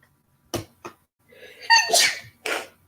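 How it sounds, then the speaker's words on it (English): A single close sneeze bursts out after a couple of short breaths, followed by a brief exhale. "I feel like I'm about to sneeze."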